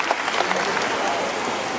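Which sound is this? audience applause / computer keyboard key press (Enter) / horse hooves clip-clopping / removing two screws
audience applause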